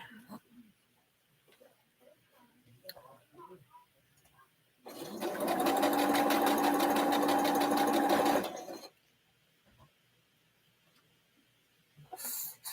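A sewing machine stitches a pieced pinwheel quilt block in one steady, loud run of a few seconds, with quiet handling and faint rustling before and after.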